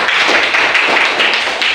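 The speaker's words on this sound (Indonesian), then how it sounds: "Ayo tepuk tangan dulu, Pak." A classroom of students claps hands together, a brisk, close burst of overlapping claps with a loose rhythm lasting under two seconds.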